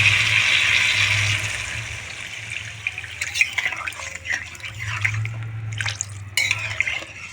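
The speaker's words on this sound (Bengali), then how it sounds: "এখন আমি জল অ্যাড করে দিয়ে দেবো" Water poured into a pan of rui fish curry as the spiced masala finishes frying, a steady splashing pour with sizzle and liquid sounds across the clip, moderately loud and close.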